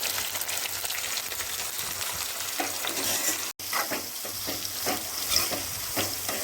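Fried okra tossed into a pan of masala, with steady frying sizzle and scraping stir strokes throughout, close and fairly quiet, with a brief dropout in the middle.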